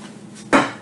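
A mixing bowl set down or knocked once with a short, bright clatter, ready for mixing eggs, sugar and vanilla for a kladdkaka, preceded by a quiet room.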